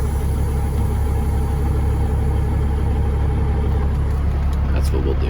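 A truck engine rumbles steadily as it pulls onto the road beside a small town, a constant low drone filling the cab with little change.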